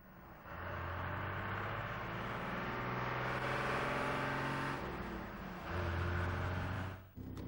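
A goods vehicle's engine labours as it pulls hard up a hill, a sustained loud drone with a pitch that climbs steadily, dips briefly at a gear change, then swells again, heard from inside the vehicle without talk.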